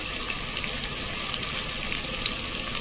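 Chopped tomato and spices sizzling in a hot pan, a steady hiss of frying with faint crackles and no talking.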